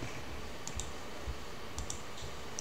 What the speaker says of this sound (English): And click next.